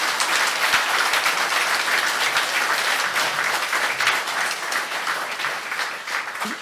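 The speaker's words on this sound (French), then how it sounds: "Je vous demande de faire un triomphe d'applaudissements à Jean-Gabriel Ganachia." Sustained audience applause at a conference, dense and even, a crowd clapping steadily throughout without pause or speech.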